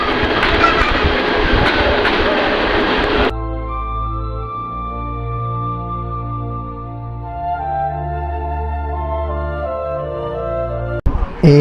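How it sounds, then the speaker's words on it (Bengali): A loud rushing rumble of a train pulls in, then gives way to a steady, droning engine hum that lingers. "ট্রেন চলে এসেছে এখন আমরা ট্রেনে ওঠার পালা"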